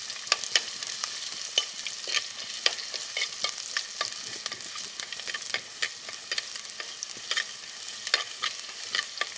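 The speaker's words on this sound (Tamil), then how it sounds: "பச்சை மிளகாய் வதங்கிட்டு இருக்கும்போதே சின்ன வெங்காயம்." Shallots and green chillies sizzle and fry in oil for fish curry while being stirred, a steady close crackle with repeated sharp spatula scrapes and no voices.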